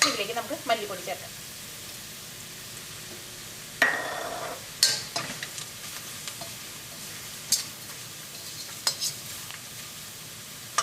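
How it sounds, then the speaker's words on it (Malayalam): Coriander powder fries in oil for a Kerala green peas masala curry, a steady sizzle punctuated by occasional sharp spoon clicks and scrapes against the pan. "ഇനി ഈ മല്ലിപ്പൊടി എണ്ണയിൽ കിടന്നിട്ട് നന്നായിട്ടൊന്ന് മൊരിയണം"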